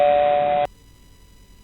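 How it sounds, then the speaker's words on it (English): Doorbell chime in a children's story, a single steady electronic tone sounding clearly and alone before cutting off into near silence, with a brief return at the very end. "He was still in deep thoughts when the doorbell rang."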